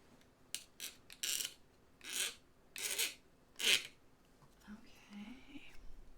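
Rough edges of a simple aluminum panel being filed by hand, six or seven separate rasping strokes close by, followed by a brief low murmur of talk.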